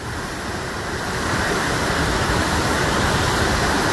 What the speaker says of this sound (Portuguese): Essa água que desce como cachoeira, tá, é proveniente da W3